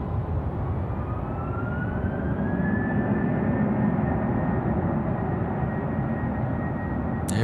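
An airliner begins its takeoff roll on runway 16 right at night, a broad distant roar of jet engines with a rising whine that swells steadily, heard alone without talk.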